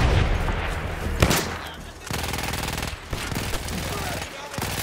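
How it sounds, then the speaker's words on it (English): Battlefield 1 gunfire rattles in dense, loud bursts through the whole stretch, with sharper single cracks and brief lulls between volleys, sounding close and continuous like a heated wartime firefight. "I saw a gunshot over there."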